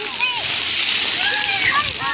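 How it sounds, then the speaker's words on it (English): Water splashes and sprays steadily at a public splash pad in Gregory Mill Park, Smyrna, Tennessee, a continuous hissing wash with children's high voices and squeals mixed in. "the new Smyrna splash pad in Nashville, Tennessee."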